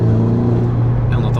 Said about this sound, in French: Et on entend vachement les turbos